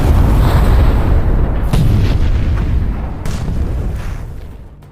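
An armored personnel carrier detonating a mine in a minefield, a loud deep blast with heavy low rumble that rolls on and slowly fades, with a second sharp burst partway through, no voices.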